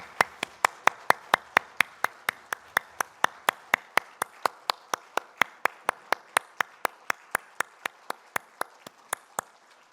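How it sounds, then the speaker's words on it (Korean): A congregation at a Sunday church worship service claps in unison to a steady, even beat of about three claps a second. The crisp, sharp claps continue for ten seconds with no voices. "하나님께 영광의 박수 올려드리겠습니다"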